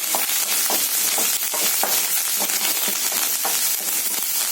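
Close, continuous sizzling of curry leaves frying crisp in hot oil for a pepper kara kuzhambu, with intermittent stirring scrapes breaking through the steady hiss.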